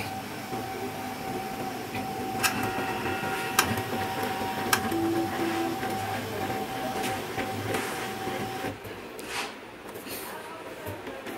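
A Canon i-SENSYS MF3010 laser printer with error E001 whirs steadily as it tries to pull in paper, with a sustained mechanical hum, a few sharp clicks and a brief whine, close by and fairly quiet.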